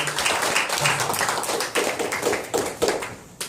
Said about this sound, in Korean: 박수 한번 다시 한번 박수해주시면